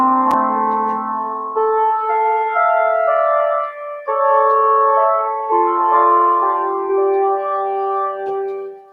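A solo electronic organ voice plays a slow melodic line of sustained, reedy notes, steady and clear with no talking.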